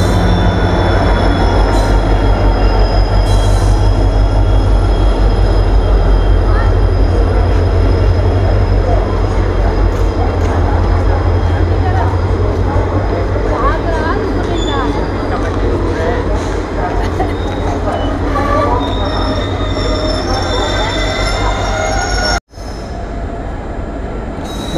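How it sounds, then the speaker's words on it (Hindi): A Chetak Express train with ICF coaches pulls into Gurgaon railway station: a loud, steady rumble of rolling wagons and wheels with metallic squeals throughout, a faint murmur of people on the platform, then an abrupt cut near the end. "ट्रेन आ चुकी है 15 मिनट की देरी से"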